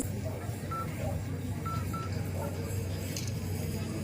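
A telephone keypad dials the Telangana police emergency number 100, a few short, faint electronic tones rising over a steady low background hum.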